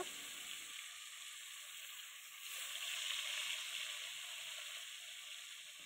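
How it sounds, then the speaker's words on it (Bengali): Rupchand fish coated in salt and turmeric frying in hot oil, a steady bright sizzle that swells louder midway and holds, with no talking. "প্রথমে আমি নুন হলুদ মাখিয়ে মাছগুলো খুব ভালো করে লাল লাল করে ভেজে নেব"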